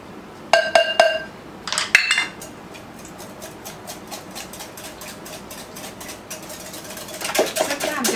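Mayonnaise being whisked in a bowl for a blue ribbon quiche, heard as quick clinking taps of a whisk against the bowl in short bursts, close and moderately loud, with light kitchen clatter.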